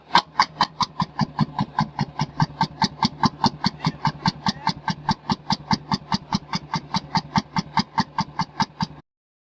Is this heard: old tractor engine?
yes